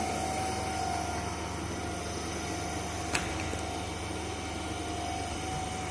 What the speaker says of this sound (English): Now you can see speed is there, alternator rotor is rotating